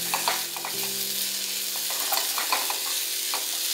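Okra bhaji with besan and coriander being stirred in a pan, a steady close sizzle of frying under intermittent scrapes and clinks of the spoon, with no talking.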